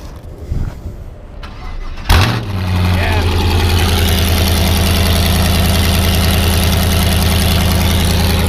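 A big 6-liter engine cranks briefly, then fires up with a loud roar and settles into a steady, rumbling idle.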